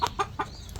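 Chinese bantam chickens cluck in a garden bird sanctuary, three or four short, quick clucks close by in a brief burst.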